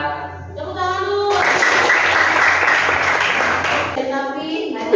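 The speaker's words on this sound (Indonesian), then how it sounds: "Tepuk tangan dulu." A class of schoolchildren claps together for a few seconds in a classroom, loud and dense, with a teacher's and children's voices before and after.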